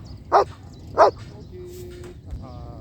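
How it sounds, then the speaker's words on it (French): A Belgian Malinois barks on command, two sharp, loud, close barks about half a second apart, followed by quieter movement and a faint whine. "maintenant je le fais aboyer, donc il connaît déjà l'exercice."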